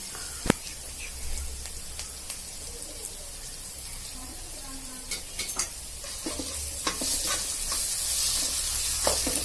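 Ginger garlic paste frying in a pan for mutton cutlets: a continuous close crackling sizzle with scattered pops and occasional stirring scrapes, with faint speech briefly present.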